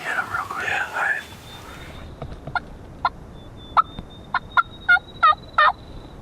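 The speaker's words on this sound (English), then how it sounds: "We heard other longbeards gobbling" Wild turkey longbeards gobble in a series of short, loud bursts, some near and some farther off, after a quiet opening of hushed human whispering during a spring hunt.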